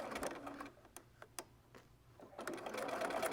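A sewing machine stitches a narrow quilt border strip in uneven bursts, running, pausing with a few sharp mechanical clicks, then whirring steadily again, close by with no talk.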